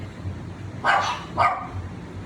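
Two short dog barks spaced about half a second apart, moderately close, over a low steady background hum with no talking.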